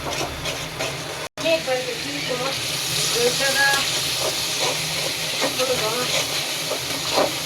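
Spice paste for koi fish curry sizzles and hisses in hot oil while being stirred, a loud, close, steady frying crackle with a brief cut near the start and occasional scraping.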